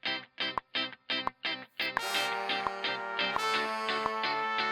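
Brass section of trumpet, trombone and baritone sax playing a hip-hop beat: short staccato stabs at first, then sustained chords with regular percussive hits underneath, loud and close with no voices.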